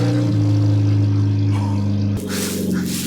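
A loud, raw-sounding straight-piped car engine idles with a steady low drone, then shifts abruptly as the revs change, close to the microphone.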